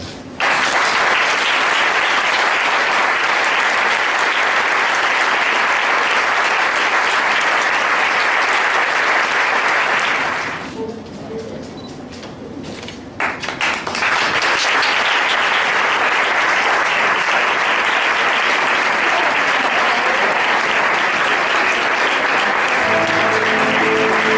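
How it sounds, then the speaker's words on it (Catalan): Big, strong ovation for a newly proclaimed Falles commission president: loud sustained applause that dips briefly near the middle, then swells back to full strength and continues to the end. "ho volem refrendar i donar-te les gràcies i la enhorabona en esta gran i forta ovació"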